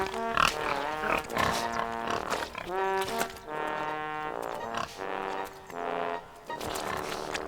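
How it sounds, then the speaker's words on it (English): Cartoon pigs on a farm grunt and squeal in a lively, overlapping chorus, loud and close, with a few brief pauses between bursts of snorting oinks. "Thomas was watching the pigs roll in the mud."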